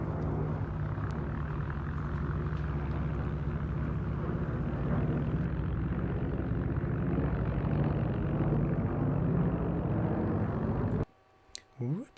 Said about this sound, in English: now, the finale of today's display, running in from the left, B-17G Flying Fortress